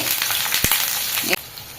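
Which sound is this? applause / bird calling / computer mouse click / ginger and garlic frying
ginger and garlic frying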